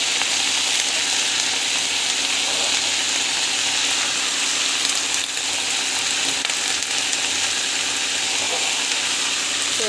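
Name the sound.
mint leaves sautéing in a pan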